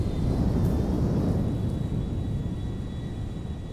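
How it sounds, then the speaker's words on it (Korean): An airplane passes in GTA 5, a loud, continuous low jet-engine roar that stays strong throughout and eases slightly toward the end. "제 눈앞에 아주 우연히도 비행기 한 대가 지나가고 있습니다"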